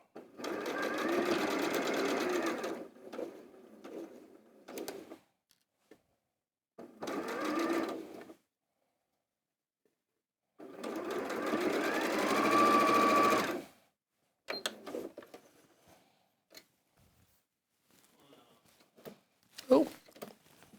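A sewing machine stitches quilt block seams in several separate runs, each lasting a few seconds with pauses between, followed by quieter handling sounds near the end.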